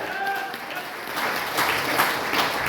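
A seminar audience at a business marketing-plan presentation applauds steadily for a few seconds, a dense wash of claps at moderate level with a brief tonal trace near the start.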